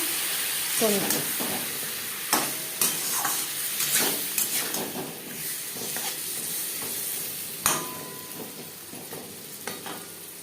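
Spices sizzle and fry with ginger and green chili for a katla fish curry with potatoes, under a continuous hiss broken by scraping stirs and clinks of a spoon against the pan.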